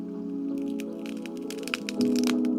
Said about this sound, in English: He opens the first layer of the hive.